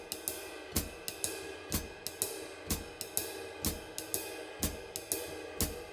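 A jazz ride cymbal plays a swing pattern with beats 1 and 3 accented, so stronger crashes alternate with lighter skip notes in a regular bright metallic pulse, played alone at a modest level.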